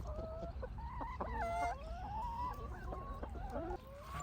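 Hens on a Texas farm clucking and calling close by, a busy overlapping chorus of short clucks and longer drawn-out cackles with no talking.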